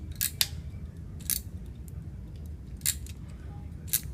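Scissors snip through the small wires of an RJ45 network cable in four crisp, separate cuts over a low steady background rumble.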